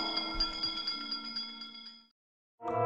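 A bell rings in Disney's Madame Leota séance with a bright, sustained metallic tone that fades out, followed by a short pause before another ring begins.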